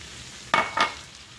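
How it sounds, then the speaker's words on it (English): White wine poured into a hot pan of garlic gives two sharp bursts of sizzle in quick succession, loud and close, then settles into a low hiss. "And now I'm going to add the white wine"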